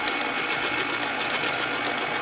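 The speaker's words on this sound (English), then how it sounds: "I'm going to go ahead and turn the mixer on this time" An electric mixer runs steadily, beating batter with eggs, a close, even mechanical whir with no break or speech.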